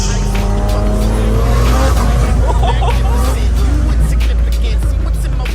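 A 1600 HP turbocharged Toyota Supra's engine roars loudly and continuously under hard acceleration in a third-gear pull, with rising tones and some crowd noise in the background.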